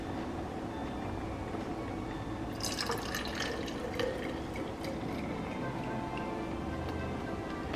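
A drink is poured into glasses at a Christmas Eve celebration at home. Light liquid trickles and splashes sit close over a quiet room background, with a few ticking clinks in the middle stretch. Nobody speaks.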